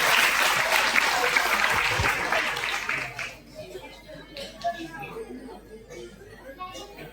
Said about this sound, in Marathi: त्या टाळ्या वाजवायच्या आहेत